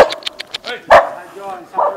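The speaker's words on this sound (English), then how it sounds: "Oh, what a cute little dog." A small dog gives a few sharp, quick barks up close on a street in Palermo, one louder yap standing out, with voices talking around them.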